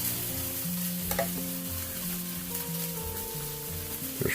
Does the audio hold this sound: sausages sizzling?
yes